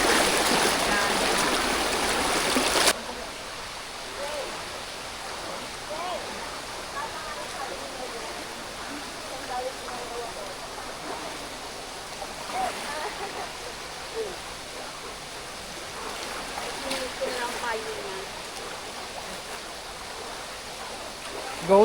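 Water running in a stream on the Laiban hiking trail, a steady broadband rush with faint trickles, heard close while someone crosses, with a louder burst at the start.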